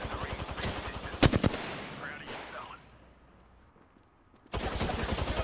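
Rapid gunfire in Apex Legends bursts loudly in close repeating cracks, with one heavy volley, a quieter gap, then another sustained burst.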